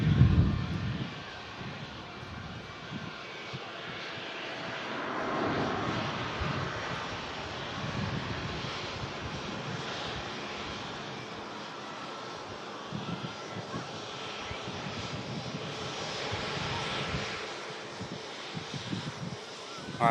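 An airliner shuttle climbing out after takeoff near Heathrow, its engine roar heard from a distance and swelling and fading in broad waves over about twenty seconds, with light wind noise and no talk.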